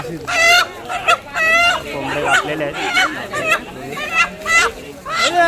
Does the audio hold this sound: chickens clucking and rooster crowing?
yes